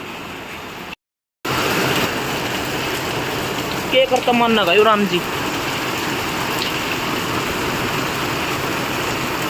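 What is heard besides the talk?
heavy rain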